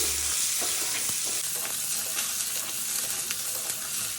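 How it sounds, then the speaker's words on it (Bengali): Eggs rubbed with salt and turmeric fry in mustard oil with five-spice seeds, giving a steady, close hiss of sizzling with occasional stirring scrapes and pops, with no talk throughout. "তো ডিমগুলোকে আমি নুন হলুদ মাখিয়ে নিয়েছি। আর এগুলো এবার ভালো করে লাল লাল করে ভেজে নিচ্ছি।"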